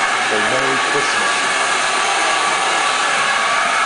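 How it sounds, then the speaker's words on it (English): A Christmas train's loud engine roars as a constant, dense broadband rumble and hiss that stays close and overpowering throughout, with no breaks or changes in level. "That's a loud engine"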